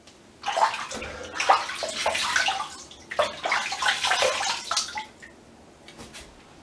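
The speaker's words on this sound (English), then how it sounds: "Alright, I'll rinse off." Water running and splashing in uneven bursts while a face is rinsed off after a shave with a GEM Featherweight safety razor, close up, stopping briefly midway, with no talking.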